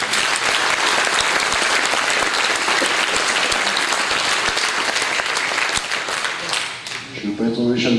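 A local audience at a French municipal election campaign meeting in Hagetmau breaks into sustained, dense applause for nearly seven seconds before it thins out and a voice begins speaking.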